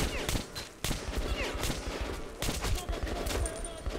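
Pistol shots in Metro 2033 Redux crack out in a quick, loud, close series of sharp reports, one after another over a few seconds.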